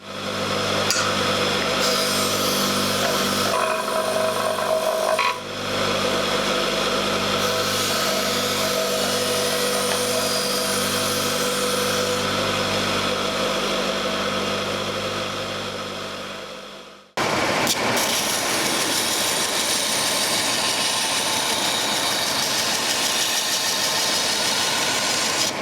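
A bladesmith burnishes a parang blade forged from a rasp on a belt grinder, with a loud steady motor hum and grinding rub that drops out briefly near the end and then resumes at full roar.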